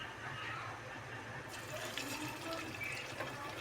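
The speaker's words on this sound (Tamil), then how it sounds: "இப்போ இதை ஃப்ரை பண்ண போகிறோம்" Sago tikki deep frying in hot oil in a pan, a continuous close bubbling hiss that brightens partway through, with no voices.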